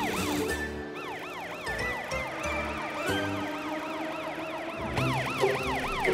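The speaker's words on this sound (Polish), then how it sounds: "Chyba coś nie tak z twoją syreną." A wailing siren rises and falls repeatedly over steady engine rumble, loud and close, with a second siren tone layered in and no talking.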